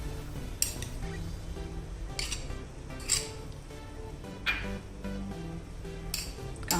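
Radish salad with onion, chilli and lemon being mixed in a bowl, a utensil clinking and scraping against the dish in scattered knocks with soft rustling between, close and fairly quiet.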